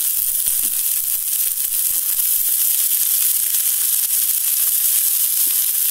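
Wild amaranth greens hit hot oil with softened onion and green chili, giving a loud, steady sizzle and crackle that runs unbroken throughout, with no voices.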